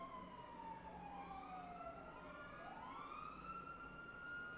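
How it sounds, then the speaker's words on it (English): Wailing sirens of an ambulance and a police car in a video game overlap, rising and falling in sweeping tones, fairly faint and steady throughout. "That's an ambulance and a cop car."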